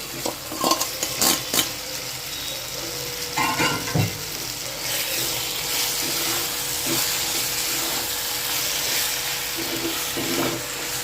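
Prawns sizzle steadily in a pan over a low flame for a prawn gravy seasoned with pepper powder, with a spatula stirring and scraping through at the start and around four seconds, and no talking.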